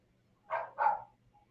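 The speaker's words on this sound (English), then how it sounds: "Can you hear my mom's puppy barking at her?" A puppy gives two quick, high barks close by, followed by a faint trailing whimper in an otherwise quiet room.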